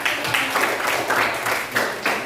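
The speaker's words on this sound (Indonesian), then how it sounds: "kasih tepuk tangan" A class of students applauding a correct answer about youth and independence, a steady, moderately loud patter of many hands clapping at a middle distance with little talk.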